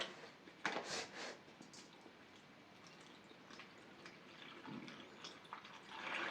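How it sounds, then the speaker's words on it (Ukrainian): Salt brine for pickling tomatoes is poured from a pot into a bowl in a home kitchen, a faint continuous splashing and trickling with a few louder splashes and handling knocks. "і будемо наливати розчин."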